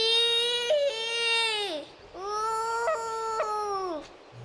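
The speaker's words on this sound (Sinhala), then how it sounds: "පුංචි ඌරු පැංචියෙක් අඬනවා. ඊ කියා අඬනවා." A cartoon piglet cries in two long wailing sobs, high and tonal with bending pitch and a short break between them, close and clear with no other sound.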